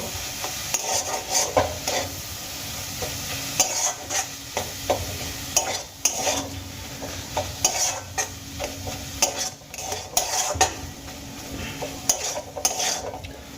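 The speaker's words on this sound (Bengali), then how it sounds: "এবার আমি এই ফুলকপির সঙ্গে সমস্ত মশলা খুব ভালো করে মিশিয়ে নেব" Cauliflower being mixed with spices in a pan, with repeated scraping and clattering of a utensil against metal over a soft sizzle, in uneven bursts.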